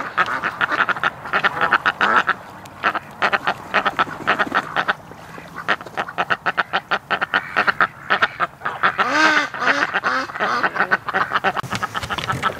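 Ducks crowded on a lakeside dock quack loudly and continuously, many overlapping calls forming a dense, chattering din close by, with no voices over it.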